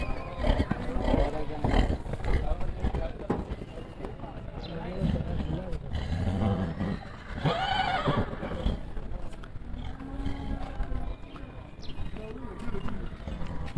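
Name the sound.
horse neighing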